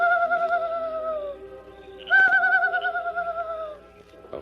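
A voice imitates a night bird's call as a signal in a dark camp, two long, wavering hooting whistles, the second starting louder after a short pause, close and clear with no talk.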